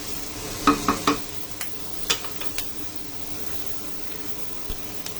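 Onions fry lightly in a pan for khichuri with a faint sizzle under a few sharp spoon scrapes and stirring clinks, quiet and close.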